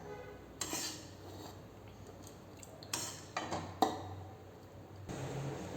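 Okra and egg rice being moved into another cooking vessel: a handful of distinct metallic clinks and scrapes of a spoon against pots, spaced a second or two apart over a low steady background hum.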